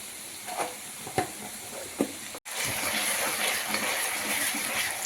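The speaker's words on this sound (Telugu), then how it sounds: "ఇలా ఆనియన్స్ ఫ్రై అవుతున్నప్పుడు దీంట్లో 2 స్పూన్స్ అల్లం వెల్లుల్లి పేస్ట్ వేసుకోవాలి" Onions frying in a pan with curry leaves, cinnamon, cloves, cardamom and shahi jeera, a steady close sizzle with a few stirring scrapes, growing denser and louder after a brief pause.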